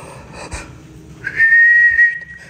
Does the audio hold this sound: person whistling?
yes